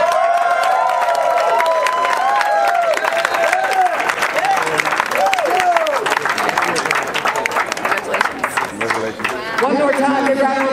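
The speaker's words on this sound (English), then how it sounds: "One more time, give a round of applause for these very fast gentlemen." A crowd claps and cheers for runners at a desert ultramarathon awards, loud and lively, with many voices whooping and calling out over the steady applause.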